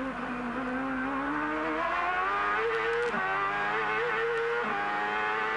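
Ford- and Honda-engined IndyCar race cars screaming through the 1997 street race at Surfers Paradise, Australia, high-pitched engine whine climbing through the revs with a few quick shifts and drops, steady and loud with no commentary over it.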